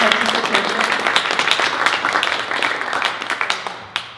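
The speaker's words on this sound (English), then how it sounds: "I also think we should applaud the audience and everyone out there for your participation" Audience applause fills an Oxford-style debate on whether the U.S. patent system stifles innovation: dense, steady clapping from a sizable crowd that holds for several seconds, then thins to a few scattered claps at the end.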